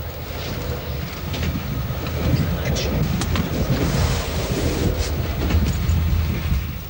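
A moving 1970s train travelling through Yugoslavia is heard from inside the carriage, a continuous rumbling rattle with faint clicks, steady and fairly close, while muffled speech sits underneath.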